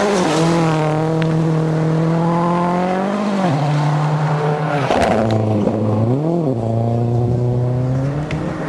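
A Ford Focus WRC rally car at Rally Finland roars loudly at close range, its engine note climbing steadily, dipping sharply between gears and revving back up, with tire noise underneath.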